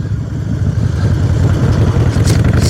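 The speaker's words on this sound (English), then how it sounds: "So a lot of wind noise, a lot of engine noise." Engine noise from a moving vehicle, recorded on a Hollyland Lark M2 microphone with a GoPro 8 Black, forms a loud, constant low rumble mixed with buffeting wind noise across the whole span.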